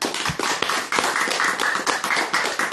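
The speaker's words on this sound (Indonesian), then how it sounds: "Tepuk tangan dulu." Audience applause at a religious lecture, a dense steady patter of many hands clapping close by, sustained throughout.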